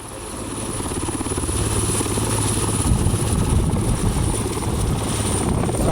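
A helicopter with the Swiss SWISSCOY contingent comes in toward a ground team near Malichevo, its rotor thudding steadily and growing louder, a continuous heavy drone with no speech.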